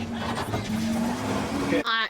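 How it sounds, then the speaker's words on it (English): Army jeep driving along jungle roads in the video game Monarch Legacy of Monster, a steady engine drone with tire noise running under continuous talk, ending in a brief sharper burst. "It's an army jeep"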